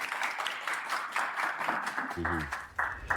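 Studio audience applause for a departing contestant on a dating show, moderate clapping running under background music, with a voice speaking partway through.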